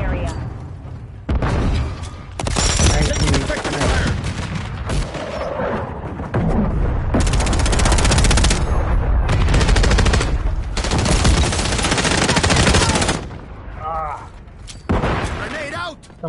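Heavy automatic gunfire and explosive bursts from Call of Duty combat, loud and dense in long sustained volleys with brief lulls, mixed with shouted voices and game chatter.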